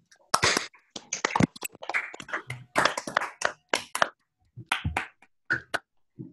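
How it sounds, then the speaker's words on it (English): Online audience applauding through unmuted microphones after a mathematics talk, scattered overlapping claps in uneven bursts that start, swell and fade out. "everybody please briefly unmute yourself and let's applaud"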